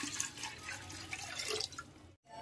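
Water poured into a cooking pot on the stove while making an amaranth leaf stew, a steady splashing pour for about two seconds that stops abruptly, with a short drip afterward.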